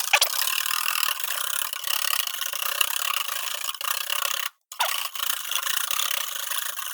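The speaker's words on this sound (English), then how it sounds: "Oh well, let's mix it more." Homemade eggnog with heavy cream being mixed, a steady close rasping whir of a mixer running continuously, briefly cutting out near the end before resuming, no talk.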